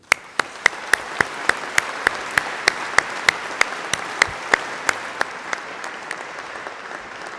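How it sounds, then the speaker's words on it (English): Graduation ceremony crowd applauds the graduates, a thick wash of clapping punctuated by sharp, regular loud claps close by that grow weaker as the ovation winds down. "Let's give them a round of applause."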